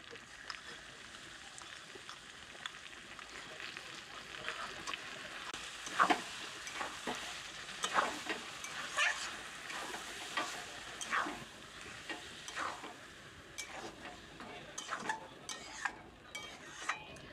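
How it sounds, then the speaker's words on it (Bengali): Sour yogurt stirred into jackfruit biryani masala in a pan, a soft continuous sizzle of frying under scattered clinks and scrapes of a spoon against the pan, quiet and close, no voices. "টক দই দিয়ে একটু নাড়াচাড়া করে নিলাম"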